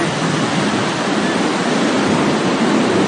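Loud, steady broadband rush of river water flowing into the Caspian Sea, a constant wash of water noise without speech.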